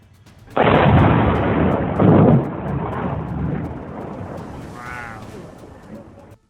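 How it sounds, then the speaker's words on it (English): Thunder from a night thunderstorm near San Diego, a sudden loud crack that rolls into a deep, sustained rumble with a second surge, then trails off gradually; a brief faint cry rises near the end. "In slow motion, a thunderstorm near San Diego revealed each lightning bolt in stunning detail"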